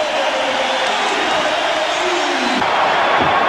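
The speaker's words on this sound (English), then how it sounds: "They got this crowd going early today." A loud, dense roar from a basketball arena crowd cheering at a Michael Jordan game, a steady wall of noise that swells slightly near the end.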